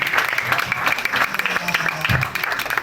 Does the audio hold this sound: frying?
no